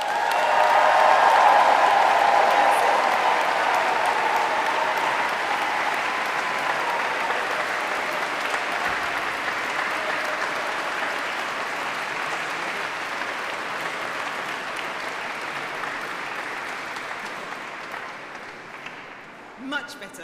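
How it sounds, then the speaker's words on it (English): An audience applauds at a university graduation ceremony in Canterbury Cathedral, a loud, dense round of clapping in a reverberant space that swells early, then slowly fades over about twenty seconds. "Please, can you give them a raucous round of applause?"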